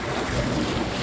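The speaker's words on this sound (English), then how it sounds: "This is just air from my tanker, air." Compressed air rushes out of a tanker truck, heard as a loud, steady, close hiss with roaring, wind-like noise that lasts the whole brief moment.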